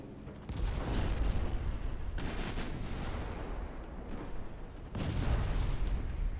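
Heavy naval guns fire from 1955-era cruisers in a naval strategy game, with three deep booming salvos rolling out one after another, each followed by a long rumbling decay.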